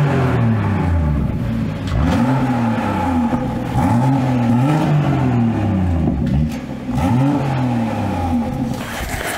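Several sharp throttle blips from a BMW 340i B58 fitted with an M Performance exhaust in Sport Plus mode, each rev swooping up and dropping back to a burbling idle, loud and close.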